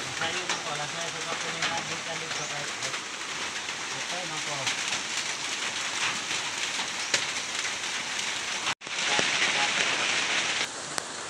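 Steady rain falls on a muddy site where a large pile of coconuts sits, a dense continuous hiss that stays even, then cuts off briefly and returns slightly brighter and louder near the end.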